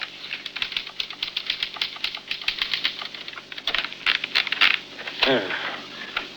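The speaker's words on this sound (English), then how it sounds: "sit down at your typewriter" Typewriter keys clacking in rapid, irregular bursts, a carriage-like sweep near the end, close and fairly loud in an old radio drama scene.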